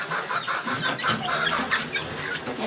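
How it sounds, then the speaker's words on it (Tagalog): Backyard-raised chicks cheep and cluck in a dense, continuous chorus nearby, with overlapping chirps and soft clucks and no talking. "Yan ang ating mga sisiw."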